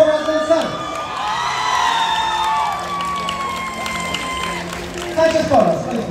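Applause, cheers and whoops from the audience at a graduation ceremony, a loud crowd roar with shouts and clapping, over which a voice is heard speaking.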